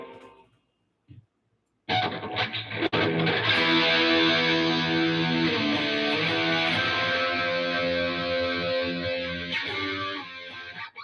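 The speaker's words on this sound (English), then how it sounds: "Let me try a little distortion here." Electric guitar with a distortion effect through an amp, starting after a brief quiet moment with a few faint taps, then a loud, sustained chord ringing steadily for about nine seconds before slowly fading slightly.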